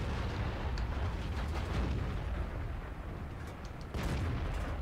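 Tank cannon fire in World of Tanks, an STB-1 shooting at an IS-8: loud booming blasts with rumbling tails, one near 4 seconds, heavy and close with no talk.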